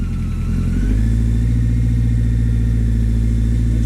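BMW K100 cafe racer motorcycle engine idling steadily while warming up, a loud, continuous low hum with a slight rise in pitch after the first second.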